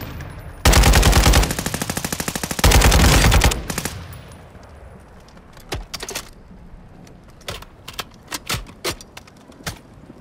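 Bursts of automatic gunfire in Call of Duty: Modern Warfare 2 Resurgence, two long rapid volleys close up, then scattered single shots and short distant bursts trailing off.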